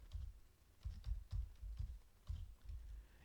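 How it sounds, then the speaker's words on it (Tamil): Typing on a computer keyboard, quiet irregular key taps in short bursts, close and faint, with no talk over them. "வெதர்னு டைப் பண்ணிவிட்டு"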